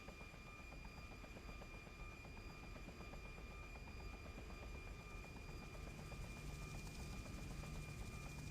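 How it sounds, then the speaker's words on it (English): A police helicopter in the video game Just Cause drones steadily and alone, its rotor whir and engine hum staying even and fairly faint throughout with no talking. "Let's track down the police helicopter."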